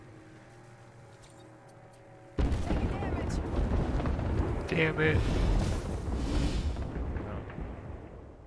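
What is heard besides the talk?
airstrike explosions in a video game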